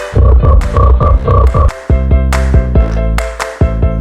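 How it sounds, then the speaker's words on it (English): A frog croaks loudly and close up, first in a rapid pulsing burst and then in a run of deep, separate croaks, alone with no talk. "Frog."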